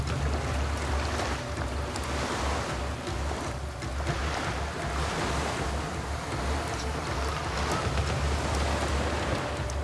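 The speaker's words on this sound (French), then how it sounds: "les conditions météo s'en mêlent, puisque la pluie fait son apparition." Rain falling outdoors on a Thai island during a survival-show endurance challenge, a dense steady wash of hiss with a low rumbling undertone, constant and fairly loud with no voices.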